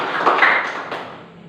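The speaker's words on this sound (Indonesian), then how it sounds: "Oke, berikan aplaus dulu." A brief burst of applause from a classroom audience, a cluster of claps swelling and fading within about a second, moderately loud with no talking.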